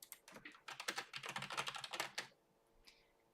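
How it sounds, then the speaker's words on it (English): Rapid typing on a computer keyboard, a close run of quick clicking keystrokes for about two seconds, then a pause and a couple of faint clicks. "I'm typing faster than my computer, obviously."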